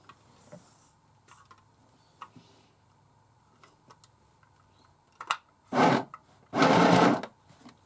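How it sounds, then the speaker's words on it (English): A sewing machine runs straight stitches in two loud whirring bursts, the second longer, after a stretch of quiet ticks and small clicks. "once again, just straight stitching"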